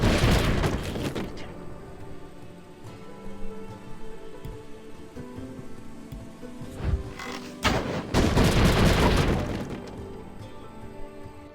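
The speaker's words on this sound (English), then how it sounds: "So when those get destroyed, they explode and do damage to everything around it." Explosive barrels blowing up in the video game Shrouded Aspect: heavy booming blasts near the start and a longer cluster of loud crashing explosions late on, with rumbling game ambience between.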